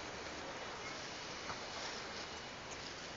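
Steady rain in Saudi Arabia during an unexpected downpour that brought flooding, heard as a continuous, even hiss of falling water with no voices.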